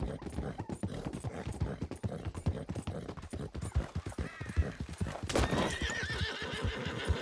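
A horse whinnies loudly over a steady clip-clop of hooves in Red Dead Redemption, a Tobiano American Paint, with rhythmic galloping footfalls filling the whole stretch and a shrill neigh near the end.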